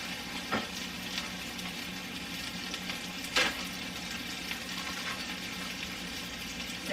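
Chicken pieces frying in a pan for creamy garlic chicken pasta, giving a steady close sizzle with a few sharp pops and crackles, no talking.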